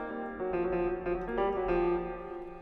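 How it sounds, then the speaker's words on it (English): Grand piano from the Keyscape instrument playing a short run of notes, each with a clear struck attack and ringing sustain, bright and close with no talking. "This next one is in Keyscape, which is the grand piano."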